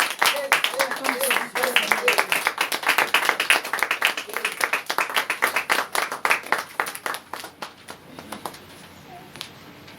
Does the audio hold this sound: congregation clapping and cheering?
yes